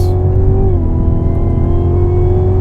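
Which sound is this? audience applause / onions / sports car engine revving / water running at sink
sports car engine revving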